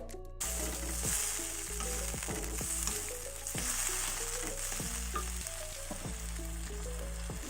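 Chopped tomatoes fry in a small Teflon pan, a steady close sizzle with repeated stirring scrapes and clicks throughout, no voices.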